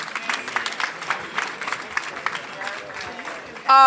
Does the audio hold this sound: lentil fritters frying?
no